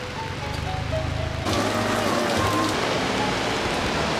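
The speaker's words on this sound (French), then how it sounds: "il pleut à verse" Steady broadband hiss of heavy rain pouring down, growing denser partway through, with faint tonal hum underneath.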